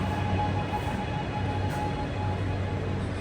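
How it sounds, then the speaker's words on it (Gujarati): Metro train in Mumbai, a loud continuous low rumble and mechanical hum heard close by on the platform, steady throughout with no speech. "ભાઈ કદાચ મેટ્રો આવી ગઈ"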